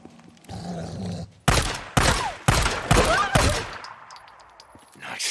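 Gunshots in the zombie video game Days Gone, four loud closely spaced shots in a rough rhythm, with a groaning creature and game sounds around them and a little talk.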